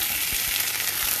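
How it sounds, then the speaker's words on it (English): Defrosted spinach sautes in a pan with a steady, close hiss and sizzle as its liquid cooks off, plus a few soft stirring bumps and no speech. "This spinach has defrosted and I'm sauteing it till the liquid dries up."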